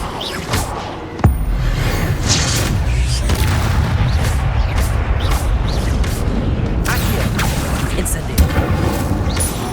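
Casting the Incendio fire spell in the video game Hogwarts Legacy: a sudden booming blast followed by a sustained roaring, crackling burst of fire, loud and close, with swooshing effects and game sound continuing throughout.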